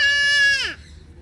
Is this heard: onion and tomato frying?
no